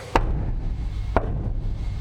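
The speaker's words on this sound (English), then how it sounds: "And this right here, no sound deadening." Two sharp bangs on a bare metal camper van wall without sound deadening, about a second apart, each with a short tinny ring, close and loud over a low hum.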